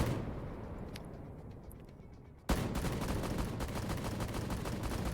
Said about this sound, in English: now you probably hear the Tigris firing at him